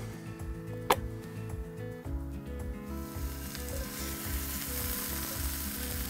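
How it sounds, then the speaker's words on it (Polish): Cherry tomatoes sizzle steadily in a drop of oil in a hot pan, with a bright crackle near the start. A ticking sound and low background music run underneath. "Będę je serwował na ciepło, więc muszę je podsmażyć."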